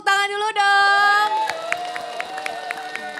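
A studio audience at a televised Islamic religious program claps in a quick, steady unison rhythm. The clapping follows a loud sustained vocal shout and carries on at moderate volume under faint background crowd noise.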